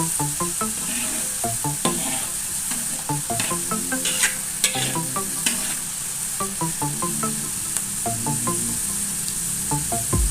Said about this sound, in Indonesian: Bawangnya kita goreng agak kering